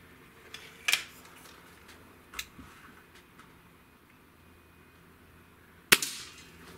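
Cometa Fenix 400 air rifle firing pellets, with a sharp crack near the start, two small ticks after it and a second louder crack near the end, each shot short and close against a quiet background.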